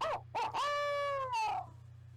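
A barred owl laugh imitated on a hunting call, a few short hooting notes followed by a long, loud descending wavering call, close and clear over a faint steady hum.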